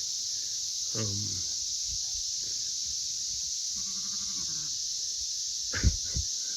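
A sheep from a parasite-resistant flock bleats twice on open pasture during lambing season, a wavering call near the start and another near the end, over a steady high insect-like hiss, with someone talking quietly between.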